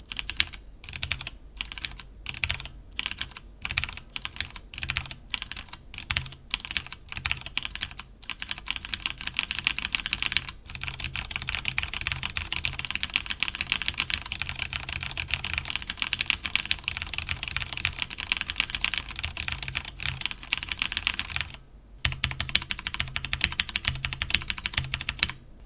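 Continuous typing on a HyperX mechanical keyboard fitted with Corsair PBT double-shot keycaps, dense rapid clacking with brief pauses, close and clear with no talk.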